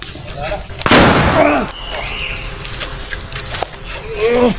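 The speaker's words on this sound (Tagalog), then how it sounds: "Pumuputok yung baril ko." A single loud, booming gunshot from a video game bursts out near the start, then fades into a low rumble while someone speaks nearby.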